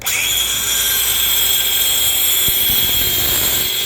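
Abrasive cut-off wheel grinding steadily through metal, a loud continuous high-pitched whine with dense hiss, unbroken throughout and close by, with no talk.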